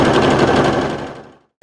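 A sewing machine automatically stitches a buttonhole, a loud, close, rapid mechanical chatter that runs steadily, then fades and stops with a small click at the end.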